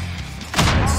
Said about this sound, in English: that was, I think that was my grenade, actually